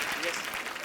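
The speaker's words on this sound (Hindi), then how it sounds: "अच्छा तालियां।" A brief burst of light clapping from a few people on a comedy talk show set.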